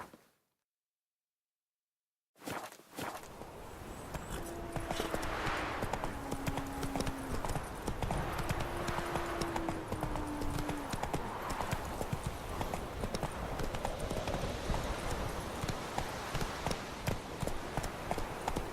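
Roach the horse galloping in the video game The Witcher 3, a steady, rapid clip-clop of hooves that starts after a moment of silence and runs continuously, close and loud, with brief tonal game sounds layered over it.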